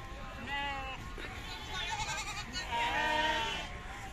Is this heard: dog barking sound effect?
no